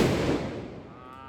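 Diwali firecracker going off outdoors, a single loud burst with a rough crackling blast that decays over about a second, no voices over it.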